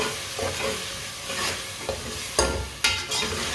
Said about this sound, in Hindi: पालक को अच्छी तरह मिक्स करके 2 मिनट के लिए पका लेंगे।